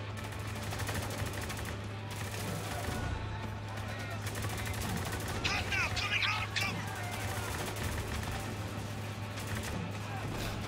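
Gunfire in the third-person shooter Spec Ops The Line, steady crackling shots mixed into a dense, noisy battle soundscape with a constant low hum, moderately loud throughout with no clear pause.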